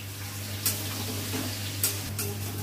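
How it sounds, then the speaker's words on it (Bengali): Cauliflower pieces fry in a pan with a steady low sizzle under a constant hum, and a few brief louder crackles and stirring clatters break in. "এবার কপিটা দিয়ে দিই, কপিটা দিয়ে ভেজে নিই।"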